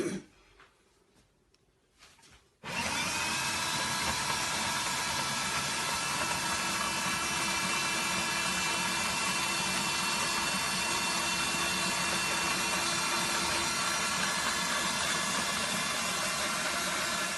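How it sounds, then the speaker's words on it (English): A loud, steady blender motor roar starts abruptly after a brief quiet moment and runs continuously at an even level, whirring through chilli sauce. "I'm going to put it in the blender and blend it."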